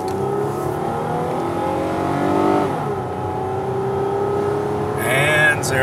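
A car accelerating from a standstill, a steady engine drone climbing in pitch with a louder surge near the end, heard close with no speech.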